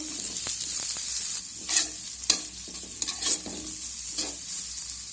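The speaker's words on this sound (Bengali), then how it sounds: "পেঁয়াজটা দিয়েও আমি এভাবে নেড়ে চেড়ে একটু ভেজে নেব" Chopped onion fries with ginger in hot oil for a stuffed vegetable paratha filling, a steady close sizzle broken by several scraping stirs of a spatula against the pan, with no voices.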